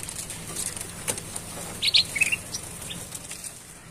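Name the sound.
young golden bulbuls (kutilang emas) fluttering and chirping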